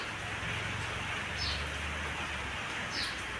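Steady rain falls continuously, a dense even hiss close by with no voices.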